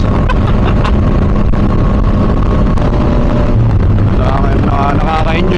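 A Yamaha Tracer 900 inline-three motorcycle cruising at about 100 km/h and 4,000 RPM on a road at Aglubang Bridge, Victoria, Oriental Mindoro, heard as a loud continuous engine drone buried in heavy wind rush.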